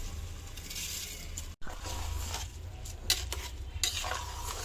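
Rice khichuri stirred and fried in a pot, with a steady sizzle under repeated scrapes and clinks of a spoon against the pot, close and moderately loud, a brief pause midway, no talking.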